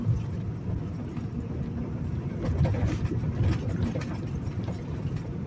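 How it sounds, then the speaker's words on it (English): Semi truck driving over a rough, bad stretch of road, a continuous loud low rumble with rattling and clattering throughout, heard from inside the cab. "Sound like truck coming apart, don't it?"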